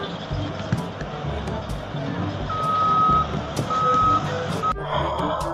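A toy mining truck gives off a steady electronic reversing beep in short repeated tones, heard fairly close over a busy background of play noise and clatter.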